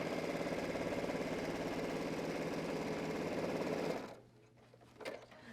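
A sewing machine stitches a seam on a men's dress shirt, a fast, even mechanical chatter running steadily up close for about four seconds before stopping, followed by quiet handling of the fabric.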